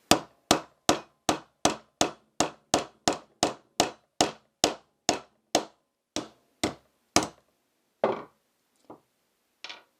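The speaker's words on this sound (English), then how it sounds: "So I grabbed a real hammer" A hammer driving a stubborn pin out of a Walther PPQ pistol, about seventeen sharp metallic strikes in steady rhythm that slow and thin out toward the end, close and loud with no talking.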